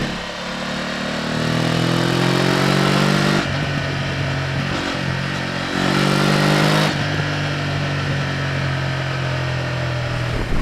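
A BMW F900 GS motorcycle rides a trail, its engine droning steadily and loudly throughout, with a couple of shifts in tone as the revs drop and rise again.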